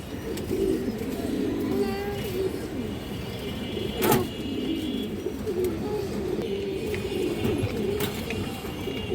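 Bagha pigeons coo softly and repeatedly at a moderate distance, with a brief sharp clatter near the middle and faint background chatter and ambient noise.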